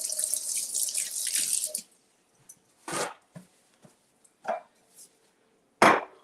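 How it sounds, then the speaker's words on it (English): Hands washed at a sink under a running tap: a hissing stream of water for nearly two seconds, then it shuts off, followed by scattered drips, splashes and small clunks. "I'll wash my hands."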